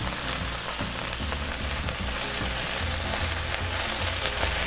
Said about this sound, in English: now we're gonna add our huge bowl of greens